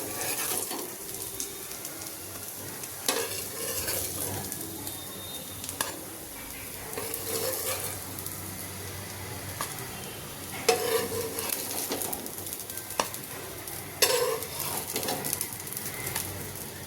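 Potato farali patties roasting in a pan give a continuous soft sizzle and frying hiss, with occasional clinks and scrapes of a utensil, steady and close throughout.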